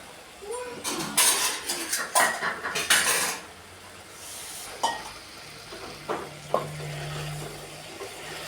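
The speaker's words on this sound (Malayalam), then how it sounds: "ചെറുതായിട്ടൊന്ന് വഴണ്ട് വരട്ടെ." Potato stew ingredients sautéing in a pan make a low sizzle, while a spoon scrapes and clanks against the metal in quick bursts, close and clear, and brief speech comes in between.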